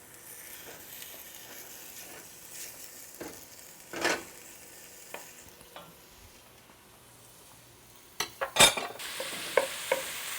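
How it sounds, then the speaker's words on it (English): Sausage browns in a pot with onions and garlic, a soft, steady sizzle broken by spoon stirs and scrapes that grow louder and clatter near the end. "we're going to let the sausage brown in the pot with the onions and the garlic"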